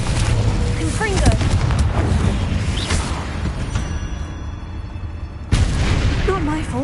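The Confringo explosive spell from Hogwarts Legacy on PS5: loud booming blasts and crackling bursts in a dense game soundscape, with a sharp fresh impact near the end.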